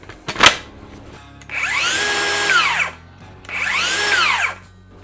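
A sharp click, then two bursts of a DeWALT or Milwaukee cordless circular saw whirring up to speed and quickly winding down as the brake stops the blade.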